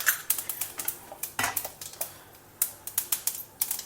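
Mustard seeds and chana dal spluttering in a tablespoon of hot oil in a pan, a string of sharp, irregular little pops and crackles close by, with no voice.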